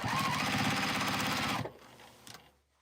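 A sewing machine stitches binding onto a quilt in a loud, rapid run, then stops abruptly, leaving a few faint clicks and handling noises before silence.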